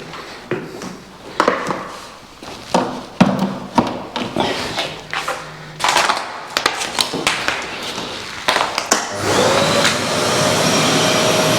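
A vacuum cleaner draws dirt out of a radiator heated both electrically and by a central-heating boiler, its steady suction broken by repeated knocks, taps and thuds of the nozzle against metal, ending in a sustained loud roar.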